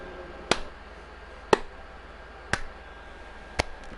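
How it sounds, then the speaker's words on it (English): Four single sharp claps spaced about a second apart, slow and deliberate, over a faint steady background hum. "that's my sarcastic clap."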